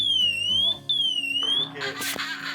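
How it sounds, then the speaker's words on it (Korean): A smoke-detecting fire alarm beeps in a sweeping, high, piercing tone, twice in succession, then gives way to mixed clatter and noise. "아, 화재 경보기요? 연기를 감지하고"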